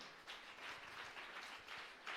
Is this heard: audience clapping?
yes